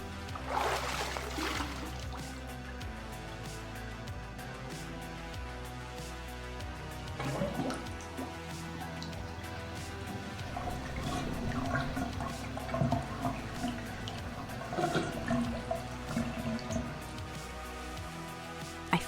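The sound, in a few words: bath water splashing in radio drama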